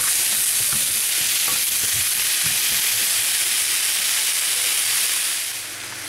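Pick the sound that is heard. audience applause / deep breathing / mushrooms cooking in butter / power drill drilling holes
mushrooms cooking in butter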